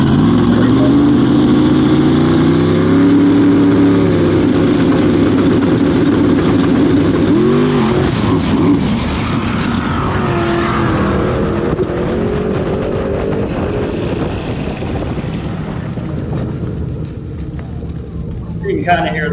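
A race car engine revs hard and loud, played back from a recording at a rally before a methanol fire, its pitch rising and falling at first and then settling into a rougher, fading drone.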